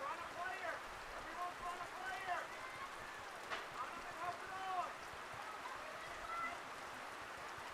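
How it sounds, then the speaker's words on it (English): Steady rain falling over an outdoor women's college soccer match, a constant hiss of drops heard under commentators' talk throughout. "Rain's picking up, Tommy."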